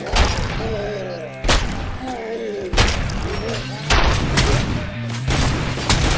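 Gunfire in the video game RoboCop: Rogue City comes in repeated heavy bursts and booming shots every second or so, layered over game music, with a voice talking through it.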